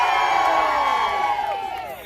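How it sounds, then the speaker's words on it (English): Crowd at a climate strike rally in Kingston, Ontario yelling and cheering loudly, a sustained mass of voices with rising and falling whoops that tapers slightly toward the end. "Can you yell like a crowd of thousands?"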